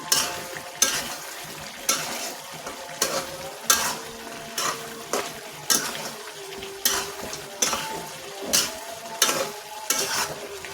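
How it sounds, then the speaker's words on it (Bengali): Beef being stir-fried in a pan for a Bangladeshi beef and yardlong bean dish, with a steady sizzle broken by rhythmic scraping strokes of a spatula about once a second, loud and close, with no talking. "মাংস বেশ কষানো হয়ে যাচ্ছে।"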